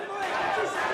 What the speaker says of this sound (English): as you can hear the crowd